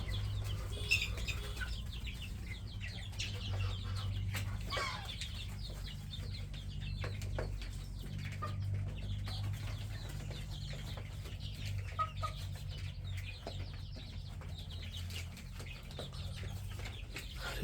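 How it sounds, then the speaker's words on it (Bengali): Chickens cluck on a poultry farm, many birds scattered at moderate distance over a low steady hum, with occasional louder clucks and a brief flutter of wings. "এই যে মুরগিগুলো"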